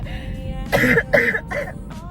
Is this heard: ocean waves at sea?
no